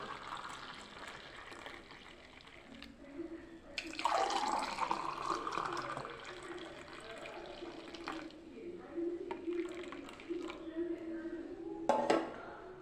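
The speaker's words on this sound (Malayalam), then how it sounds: "അപ്പം ഞാനിതൊന്ന് അരിച്ചെടുക്കട്ടെ കേട്ടോ അപ്പോഴേ മക്കളെ നമുക്ക് നാരങ്ങ വെള്ളം ദാ ഇങ്ങനെ ഗ്ലാസ്സിനകത്തോട്ട് ഊറ്റിയെടുക്കാം" Lemon water is strained and poured into a glass, a trickling, splashing stream under soft talk, with faint clinks of the strainer and glass.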